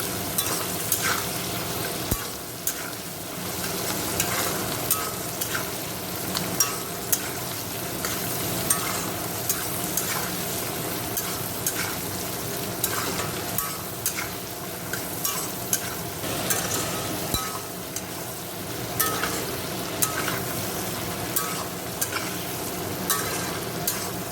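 Spices with cumin powder sauté in a pan, a steady close sizzle running throughout with repeated light scrapes and clicks of a utensil stirring.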